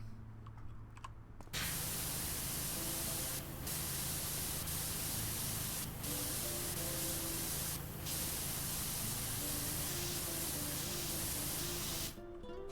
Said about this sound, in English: I'm spraying high-powered water directly at a generator that is on and functioning